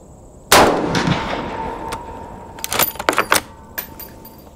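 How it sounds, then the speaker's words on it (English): A single loud gunshot cracks sharply and echoes as it fades, followed by a cluster of quick metallic clicks and clinks, with no one talking. "Hold your breath and squeeze the trigger."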